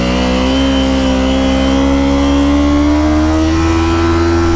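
A Dirt Ninja 250 motorbike engine revs hard and steadily through soft desert sand, a loud close droning whine with pitch climbing gradually as the bike labors to gain speed, no voices.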